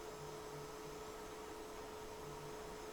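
A hot air rework tool blows over an iPhone 7 logic board during a reflow, giving a faint, even airflow hiss that stays constant for a few seconds.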